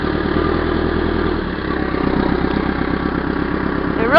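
A backhoe's diesel engine runs steadily with a loud, low, throbbing idle-like rumble while it is downshifted, the tone dipping briefly partway through before a short rise at the very end.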